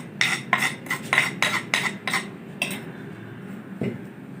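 A spoon clinks and scrapes steadily against a bowl, about eight quick rhythmic strokes, stirring powdered sugar into an eggless semolina (suji) cake batter, close and clear, ending with a softer thud.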